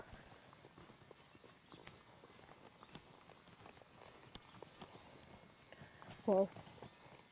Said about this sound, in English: this is one of the first few times I've loped this new horse that I've got through the pattern